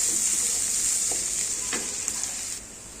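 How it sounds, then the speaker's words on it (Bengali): Onions fry in oil with fish in a pan, a steady bright sizzle close by, broken by a few soft scraping stirs before the hiss drops slightly near the end. "পেঁয়াজের পরে এই যে নাড়াচাড়া করতেছি"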